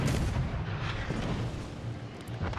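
Italian destroyer Aviere's guns fire in the naval video game World of Warships Legends, a dense run of heavy booming shots and rumbling blasts, loud and continuous with no talking.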